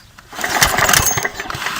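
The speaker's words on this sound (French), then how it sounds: "j'entends le petit clic-clic" Small engine with a spark plug held in a clamp, clicking as it sparks during plug cleaning; a steady rapid mechanical clicking buzz close up, moderately loud, with no talk.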